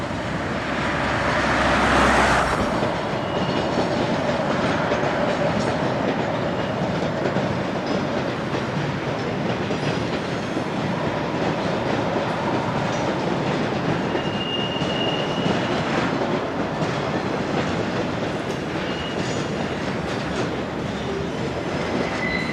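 Train 16696 passes northbound, a steady mid-distance rumble of wheels and rail clatter that holds evenly throughout, with faint squeals and a louder rush near the start.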